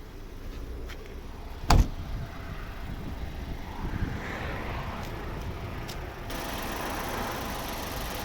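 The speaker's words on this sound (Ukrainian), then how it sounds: "Ось робота двигуна, нічого не милось, все в пилі, грязне, ну, в робочому стані." A dusty 2.0-litre petrol engine in a 2013 second-generation Mazda 5 runs at a steady, fairly faint idle, with one sharp click early on and no one talking.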